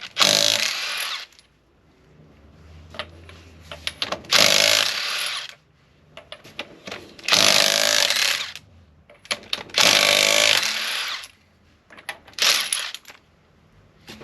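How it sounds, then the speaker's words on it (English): A Milwaukee impact wrench loosens the wheel bolts on a 1959 Chevy Impala, giving about five loud, harsh rattling bursts of a second or two each, separated by short quieter gaps with no talking. "So we got our Milwaukee rattle gun right here. So let's start off by taking the wheel off."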